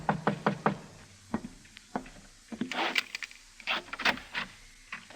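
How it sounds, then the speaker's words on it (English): A series of sharp knocks on an alley door of an office, a quick cluster of raps followed by further spaced knocks, close and fairly loud in a quiet room. "there was a knock on the alley door"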